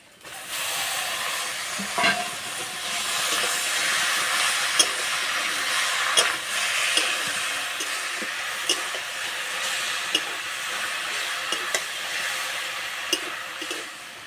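Boiled jute greens frying in a pan with onion and garlic give a steady, close broadband sizzle throughout, punctuated by occasional sharp clicks of a spatula stirring against the pan.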